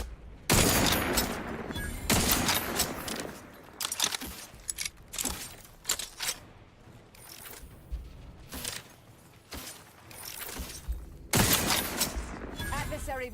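Gunfire in the video game The Outer Worlds 2, irregular sharp shots and short bursts scattered across the stretch, loud and close, with brief pauses and metallic clatter between volleys.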